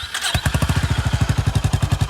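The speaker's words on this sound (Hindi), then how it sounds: "दोनों बाइक्स का एग्जॉस्ट नोट सुनाता हूँ कैसा है।" A Honda H'ness CB350 motorcycle exhaust idles close by after a brief start, thumping in a fast, even rhythm of low pulses throughout.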